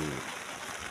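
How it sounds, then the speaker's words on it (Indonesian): Steady rain falls on a Saturday in January at a work site, a soft continuous hiss that holds evenly through the second with no other clear sounds over it. "ini saat ini terjadi hujan"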